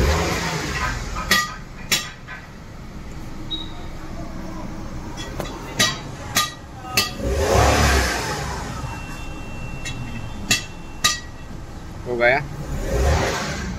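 A Maruti Suzuki WagonR with a company-fitted CNG system runs with a low, steady engine rumble, a few revs swelling and fading, and scattered sharp clicks and clinks on top.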